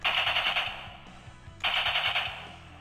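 A DX Hawk Gatlinger toy gun fires its regular attack effect: two loud bursts of rapid electronic gunfire, separated by a brief pause.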